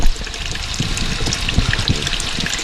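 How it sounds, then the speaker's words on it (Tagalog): Coolant drains from a Ford Explorer engine in a steady, loud trickle and splash of liquid, running continuously for a few seconds up close. "dinidrain natin yung tubig ng coolant"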